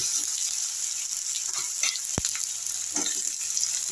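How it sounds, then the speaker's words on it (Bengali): Onion frying in oil with salt in a pan tempered with dried red chillies, for an egg curry: a steady close sizzle and hiss runs throughout, with one sharp tap midway and no talking. "আগে পেঁয়াজটা একটু ভাজা হচ্ছে।"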